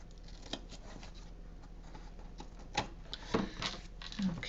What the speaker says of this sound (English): I'm just gonna cut the excess.